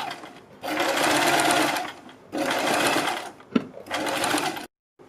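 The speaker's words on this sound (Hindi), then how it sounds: "मैंने इसके बीच में सिलाई लगा ली है और बीच में सिलाई लगाने के बाद हम बुकरम के बिल्कुल बराबर में पूरे गले के ऊपर सिलाई लगाएंगे।" Close sewing machine runs in three bursts while stitching around the neckline of a kurti or suit with buckram, whirring steadily with short pauses and a click between runs.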